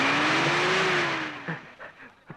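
A car pulls away, its engine tone gliding in a steady whine and roar that fades as it leaves, followed by a few short, faint knocks and scuffs.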